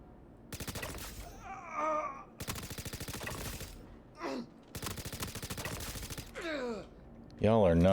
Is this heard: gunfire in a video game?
yes